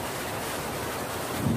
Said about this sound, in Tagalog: Lakas ng hangin dito sa inyo ah.